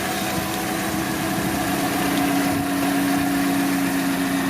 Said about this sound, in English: this engine is a 4-cylinder Clover engine